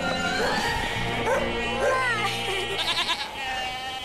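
Goats herded down from a village bleat repeatedly and close by, several overlapping cries with a dog-like yip mixed in, loud and continuous through the moment.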